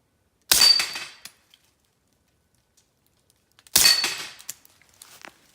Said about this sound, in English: I'll fire a couple into the dirt just so you guys can hear it.